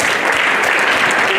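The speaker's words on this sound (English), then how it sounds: "Let's clap for Margaret." Workshop attendees give Margaret a short burst of loud, dense applause lasting just over a second, with voices mixed in.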